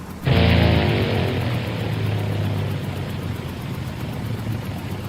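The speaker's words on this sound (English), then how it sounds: "the engine just cut out" An aircraft propeller engine roars up loudly and drones steadily at close range, holding a constant pitch with no voices over it.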